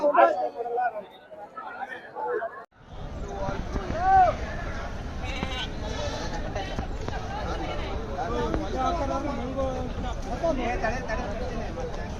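Goats and sheep bleat repeatedly at the busy Kadur sheep livestock market, the calls rising over a steady murmur of crowd chatter and people talking.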